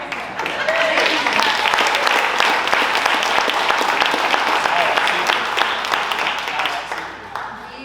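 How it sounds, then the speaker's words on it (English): An audience breaks into sustained applause at a business panel event, dense steady clapping filling the room for several seconds before tapering slightly at the end. "You guys give them a round of applause."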